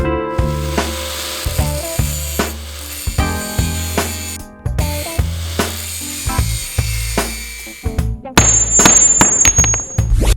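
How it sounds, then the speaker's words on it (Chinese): A metal connecting link from a car chassis being ground before welding: a series of short, rasping strokes, then a louder, sustained, harsh grinding whine near the end, close and with no talk. "在焊接之前，我们要进行一次打磨，"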